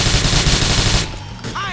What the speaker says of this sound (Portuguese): Cadê? Quem é que tá atirando aí, bicho?